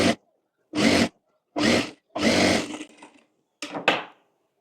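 A sewing machine stitches the seam of a homemade jumpsuit in several short, loud runs of about half a second to a second each, separated by pauses, with a final pair of quicker bursts.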